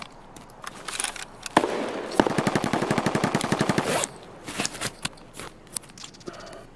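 Gunfire in Escape From Tarkov: scattered single shots, then a sustained rapid automatic burst lasting about two seconds, followed by more sporadic shots, fairly close and sharp.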